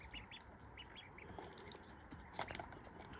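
Newly bought baby ducklings in a pen give short, faint repeated peeps and quacks scattered through a quiet background, with occasional rustling and wing movement nearby.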